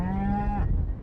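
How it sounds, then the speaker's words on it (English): A single loud, close cow moo on a Montana cattle ranch: a drawn-out, deep bellow that holds steady and then cuts off sharply, leaving quiet. "Saddle up for a real deal cattle drive as we ride Montana's Dryhead Ranch."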